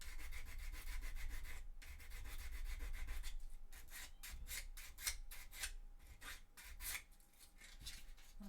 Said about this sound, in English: I might require a bit more sanding.